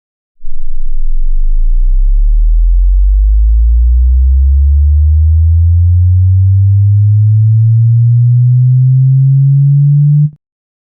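Sine wave test tones played through a car amplifier in a Honda Civic Del Sol, a loud, pure hum that glides steadily upward from a deep bass rumble to a low tone over about ten seconds, then stops abruptly.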